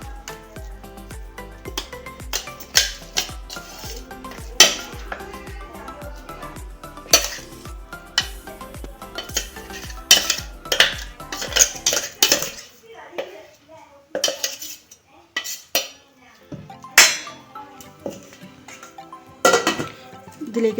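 Ground tamarind leaf chutney, mixed with curry leaves, is scraped into a vessel with a utensil, giving irregular metallic clinks and knocks of dishes and spoon, busier at first and sparser later, with a voice speaking at times.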